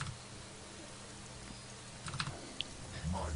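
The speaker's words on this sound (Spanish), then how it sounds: "doble tap en tabulador y ya lo tengo aquí." Keys tap on a computer keyboard during a Dota 2 session, a few faint, quick clicks scattered over a quiet background with a soft low rumble.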